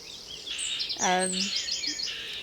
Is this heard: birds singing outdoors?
yes